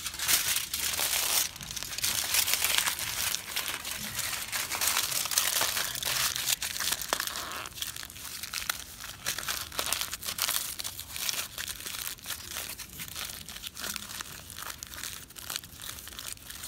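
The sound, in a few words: newspaper being crumpled into a long piece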